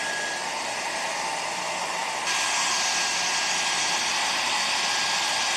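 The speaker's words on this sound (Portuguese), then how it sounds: "eu já estou secando a placa aqui tem aproximadamente 5 minutos" A hot air tool blows steadily while drying a freshly processed circuit board, a constant loud rushing hiss that jumps slightly louder partway through, with no talking.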